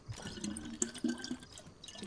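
In the DayZ video game, water trickles and splashes faintly as a bottle is filled at a well, with soft irregular drips and gurgles spread over a couple of seconds.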